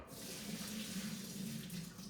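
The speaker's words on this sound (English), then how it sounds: "So now you're going to want to drain your noodles and rinse them." Tap water runs steadily into a sink over drained ramen noodles being rinsed, a soft continuous splashing stream with a low hum, quiet and close, with nobody talking.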